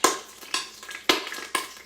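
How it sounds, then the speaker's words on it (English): Bursts of crackling sizzle repeat at intervals as mushrooms fry in a pot, close and fairly soft, with no voices. "hear it sizzling and crackling pretty good"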